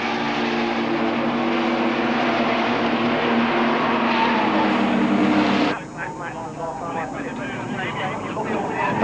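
Racing cars at a 1989 BF Goodrich Porsche Club GB Championship race pass through a corner with loud, sustained engine roar that shifts abruptly partway through, while a commentator talks over the sound.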